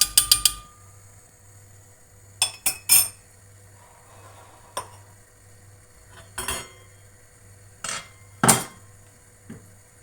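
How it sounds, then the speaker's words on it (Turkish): A utensil stirring milk and rice in a pot for Turkish sütlaç, rice pudding, with sharp metallic clinks and scrapes against the pot in scattered bursts over a faint steady hum. "Sütü ve pirinci biraz karıştırıyoruz"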